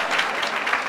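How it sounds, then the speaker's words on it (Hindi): Loud, dense audience applause fills the whole moment without a break, steady clapping from a crowd at an event honoring a successful Bihar Excise Daroga exam candidate. "चलिए एक बार और जोरदार तालियों के साथ हो"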